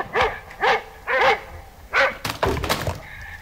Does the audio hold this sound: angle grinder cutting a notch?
no